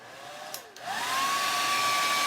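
A handheld blow dryer drying fresh paint in a farmhouse kitchen kicks on after a brief sputter, then settles into a steady whining hum with airy rushing noise, close and constant.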